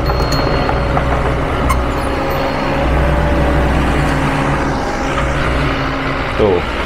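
A car drives through a field site, its engine and tyre rumble steady and fairly loud throughout, with a brief clatter near the end and no one talking over it.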